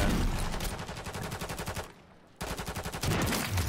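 In a shooter video game, rapid automatic gunfire crackles in dense, loud bursts, breaks off briefly, then resumes in another fast volley, with no speech over it.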